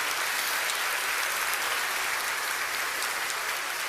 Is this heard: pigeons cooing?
no